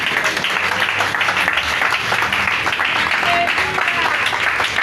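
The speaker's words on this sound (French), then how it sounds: "Et on acclame très fort." A crowd applauds loudly and steadily for a grandmother who has just turned 100, a dense wash of clapping that fills the whole stretch without pause.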